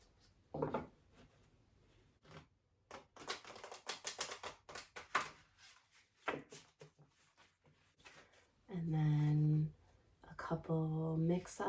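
Large, oversized tarot cards being shuffled by hand in a quiet room, giving a run of soft rapid riffling flutters with brief pauses and close papery rubbing, then a few louder sustained tones near the end.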